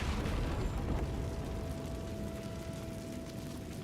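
Hogwarts Legacy Confringo spell explosion heard as a quiet, rumbling blast that fades into a steady low roar with a thin faint tone running through it, no voices.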